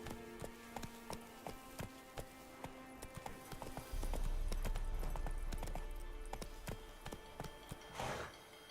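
Horse hooves clip-clop in a steady galloping rhythm in The Witcher 3, loud and close, with a louder rushing passage midway and a brief burst near the end, no talking.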